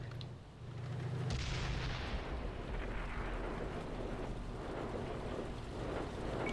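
A tank cannon fires in World of Tanks, a deep boom at about one second that rolls into a long, loud rumbling roar and battle noise lasting through the rest of the clip.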